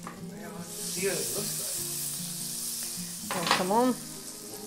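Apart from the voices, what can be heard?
potato babka slice frying in warm butter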